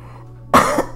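A person coughs during a spoken tarot reading: a loud, harsh cough burst lasting about a quarter second after a quiet stretch, then the start of another cough right at the end.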